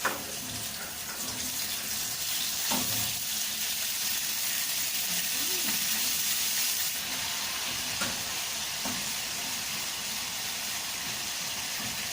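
Small skinned cubes of dried fish frying in a pan, a continuous dense hiss and sizzle with occasional faint pops, steady and close, no talking.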